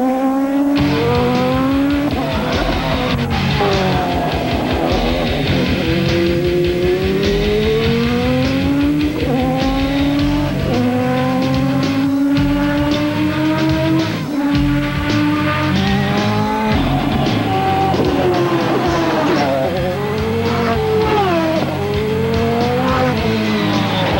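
A 1997 racing car engine screams through repeated rising revs and gear changes, with sharp tyre squeals as it is driven hard, understeering and clipping a curb, loud and close throughout.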